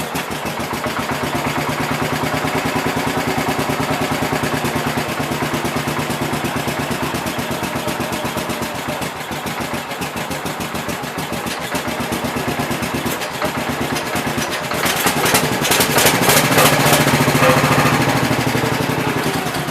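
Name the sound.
1967 engine starting and running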